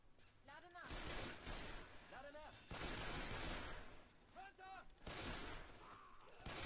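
Gunfire in Left 4 Dead 2, with repeated rapid bursts of automatic shots and heavy impacts spread across the stretch, loud and close, over a noisy game background with voices talking at times.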